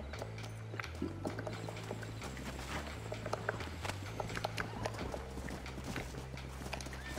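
Horse hooves clip-clop at a walking pace in the video game Red Dead Redemption, steady repeated footfalls over a low droning game soundtrack.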